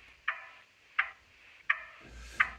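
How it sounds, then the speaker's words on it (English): Ticking of a clock captured with a field recorder, four crisp, evenly spaced ticks heard close and alone in a quiet room. "And the ticking clock sounds like this."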